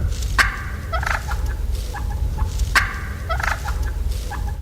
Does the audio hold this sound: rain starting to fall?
no